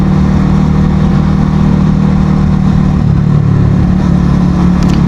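A car driven along the road to Cox's Bazar, its engine a steady, loud mid-range drone with road rumble that holds throughout without pause and no talk over it.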